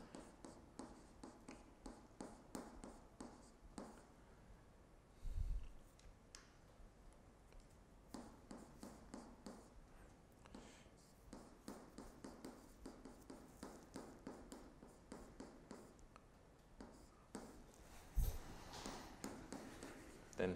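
Chalk or marker taps and scratches across a board during a maths lecture on the Mayer-Vietoris sequence, a faint irregular run of short strokes and ticks with a couple of soft knocks and no talk.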